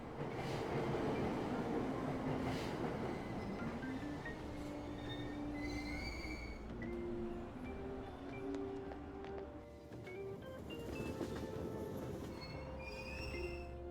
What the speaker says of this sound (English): I'm just riding my train and going home